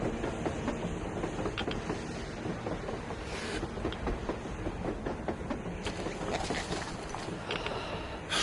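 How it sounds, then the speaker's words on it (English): A train rolls across the surface in the video game Metro Exodus, a steady dense rumble with clattering, rattling bursts throughout, sustained and fairly close. "A train! A damn train on the surface!"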